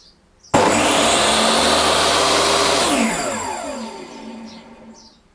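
A DeWalt DWE7492 table saw, which has no soft start, kicks on abruptly at full speed and runs with a steady, loud motor whine. After a few seconds its braked blade winds down quickly to silence.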